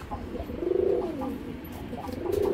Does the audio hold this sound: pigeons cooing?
yes